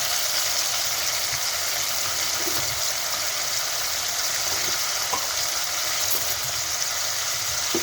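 Continuous frying hiss of chicken in a pot, steady and fairly loud, with a few faint bubbling pops and no talking.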